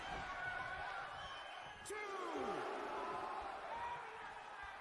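Arena crowd noise from the WWE 2K19 wrestling game forms a dense, continuous roar of chanting and cheering under a commentator's voice, with a sharp slam-like hit partway through.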